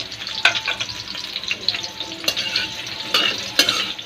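Vegetables for beef caldereta frying in oil, a continuous close sizzle broken by several sharp clinks and scrapes of a utensil against the pan, with no voices.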